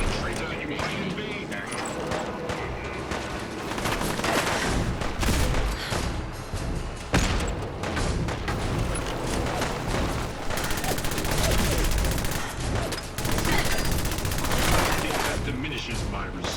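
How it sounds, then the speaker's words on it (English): Ship cannons fire in rapid, heavy volleys in Fallout 4. The blasts form a loud, dense, continuous barrage with no gaps, and voices talk beneath it. "The cannons are ready. Fire at will."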